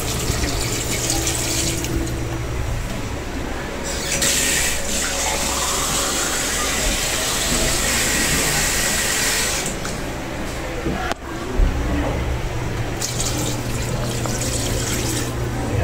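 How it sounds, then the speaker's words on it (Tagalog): Steady running water, about two glasses, pouring into a cooking pot for chicken tinola for a long stretch, broadband and fairly loud, with brief pauses and a clunk near the end. "maglalagay po ako ng mga 2 baso dyan mga kaibigan na tubig"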